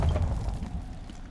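Explosive gel detonating in Batman: Arkham City lands as a loud, deep boom that rumbles and fades out over about a second.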